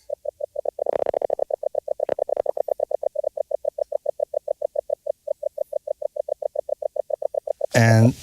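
A Skweeel synthesizer patch on the K with slow attack imitates frog calls: a long, steady train of rapid, evenly spaced croaking pulses, fairly loud and close, ending in a brief louder burst.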